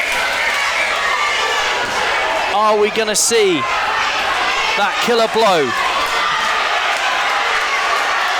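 Boxing crowd at a white-collar boxing main event cheering and shouting through a round, a constant roar with a commentator talking over it in two bursts.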